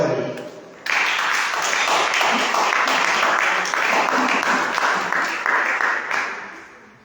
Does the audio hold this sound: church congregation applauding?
yes